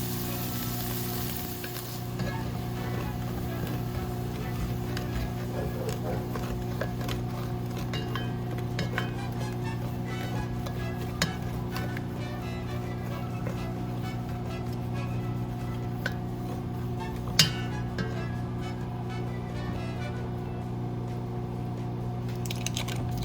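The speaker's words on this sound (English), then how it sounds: "Turn the heat down, and I'll scoop the meat out." Cooked meat is scooped out of a hot pan while jambalaya is being made, with a steady sizzle throughout and occasional soft scrapes and light clinks of a utensil, close and moderately loud.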